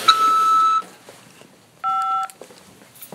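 Prison phone system tones on a corrections facility call line, two sustained electronic beeps separated by a short gap, loud and clean with faint background noise.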